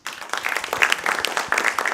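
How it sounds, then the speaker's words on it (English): A modest audience at a Wachiska Audubon Society meeting claps for a speaker, producing a brief, close patter of individual hand claps of uneven rhythm lasting a couple of seconds. "let's give Kyle a round of applause"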